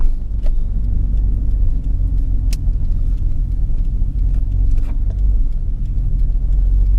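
A 1991 Nissan Fairlady Z 300ZX Twin Turbo driving over a very rough road, heard as a loud, steady low rumble of engine and road noise with faint knocks and rattles over the top.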